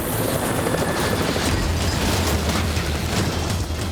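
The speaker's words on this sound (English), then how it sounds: "One of the helicopters hits a sudden draft, causing it to hit the compound wall and crash land." Black Hawk helicopter striking a compound wall and crash landing during a night raid in Abbottabad, Pakistan: a loud, steady rotor and engine roar fills the whole stretch, with rumbling low thuds and no clear single impact standing apart.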